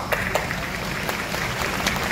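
Applause from the audience at a live Sa Re Ga Ma Season 2 music reality show event in Kozhikode, steady and somewhat distant, with a few sharper claps standing out from the crowd.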